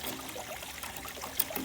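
Water trickles and pours steadily over gold sluice matting while fine black sands are processed after crevicing a boil hole; the flow is soft, continuous and close, with small splashes and no talk.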